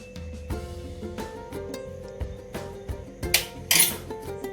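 A spoon stirs a sweet mixture, partly tinted green, in a pan, giving soft close clinks and scrapes against the metal over a faint steady background tone.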